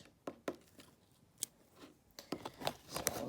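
Scissors snipping a dragon cake scale shape on a diagonal, a few sharp, close cuts spaced irregularly with quiet gaps between them.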